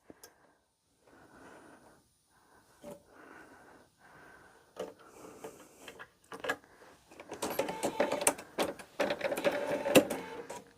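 Home sewing machine stitching fabric for a small zippered bag, starting with short soft bursts of whirring and then running in longer, louder, closer runs with rapid clattering needle strokes.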